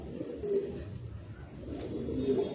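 A Madrasi high flying pigeon gives soft, low coos close by, a quiet murmuring call that rises twice in a short moment.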